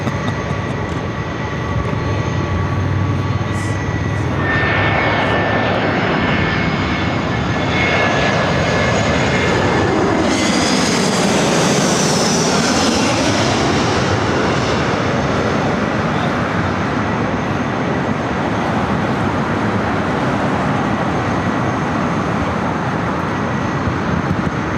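A Delta Boeing 767 jet lined up on runway 24 left at an airport, its engines roaring steadily with a broad sweeping rush that swells and shifts midway, loud and continuous with no talk.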